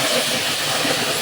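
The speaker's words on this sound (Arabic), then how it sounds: "وانا بحمر لسان العصفور مع البصله" Orzo fries with onion in a pan, giving a steady, close hiss of sizzling oil for just over a second, with no talk.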